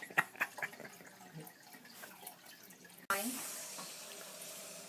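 Tap water runs from a kitchen faucet into a pan for Italian Easter bread, a sudden loud steady gush that starts partway through, after a stretch of quieter background sounds with a few soft clicks.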